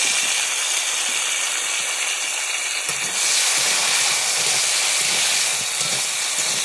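Potatoes fry in hot oil with a steady, dense hiss that holds throughout and swells a little partway through, heard close up with no talking.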